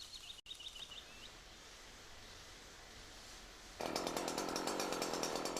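A Husqvarna chainsaw felling a tree drones steadily at a distance, then suddenly grows louder and closer as it bites in, with a few bird chirps early on.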